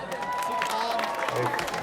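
A concert audience applauds a rapper, dense clapping and crowd noise filling the room throughout, mixed with some voices and a faint tonal background.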